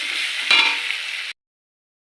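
Onion, green chilli and tomato frying in a pan while being stirred, a bright close sizzle with a brief scrape partway through that cuts off abruptly into silence after about a second and a half.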